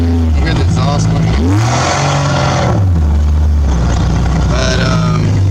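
A Jeep XJ with its exhaust running, a loud steady engine drone with rising and falling pitch as it revs, close by with a voice talking over it throughout.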